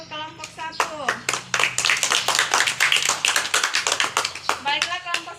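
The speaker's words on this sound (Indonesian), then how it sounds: "Kita beri aplaus untuk kelompok 1." A classroom group claps for group 1 after their presentation, with dense, fast hand claps sustained throughout and children's voices mixed in.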